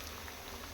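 Masala vade of chana dal and dill leaves fry in hot oil, giving a dense, steady bubbling sizzle heard close and alone for a brief moment.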